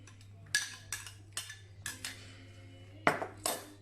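A spoon stirring a mixture of garlic, onion and celery in a pot, with a series of distinct clinks and scrapes against the metal, about eight separate strokes over a low steady hum.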